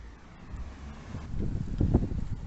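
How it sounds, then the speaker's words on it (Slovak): Mountain wind in the Tatras gusts across the microphone in a small town, a low broadband rumble that builds and buffets louder toward the end, steady and close with no talk. "Ale nám tu fúka tatranský vietor."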